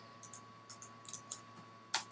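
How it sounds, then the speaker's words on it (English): A computer keyboard is typed in short, uneven bursts of light clicks, faint and close, with a louder final keystroke and a steady electronic whine underneath. "So I'm going to type in cool real estate"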